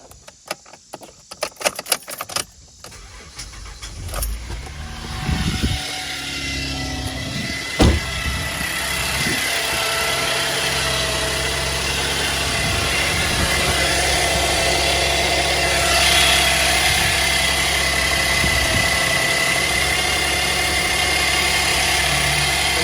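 A Chevy Traverse engine idles steadily after a rattling cold start, with a thin continuous power steering whine riding over the low rumble; a few clicks, no talking.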